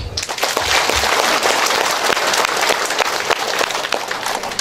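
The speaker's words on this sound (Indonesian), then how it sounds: "Tepuk tangan dulu." Applause at an inauguration ceremony in Timor Tengah Selatan, where the regent swears in 127 village heads; a loud, dense crowd clapping fills the hall steadily from start to finish, with no talk over it.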